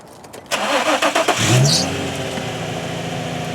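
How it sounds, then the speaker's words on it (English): A 2005 Infiniti G35 coupe engine cranks and catches, with a brief squeal of belt noise at startup, then settles into a steady idle nearby. "you hear a little belt noise there just at the initial startup"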